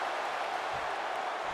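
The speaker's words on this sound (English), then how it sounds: "The crowd are ready for this one." A dense arena crowd in WWE 2K16 roars in a steady wash of cheering and applause, constant and moderately loud for the whole short stretch.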